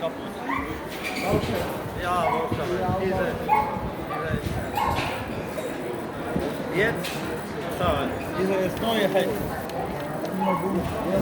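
A dog being walked while its owner shops whimpers and yips repeatedly amid a busy mix of shoppers talking nearby.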